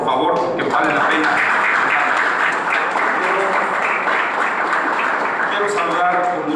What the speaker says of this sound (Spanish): Un fuerte aplauso, por favor, que vale la pena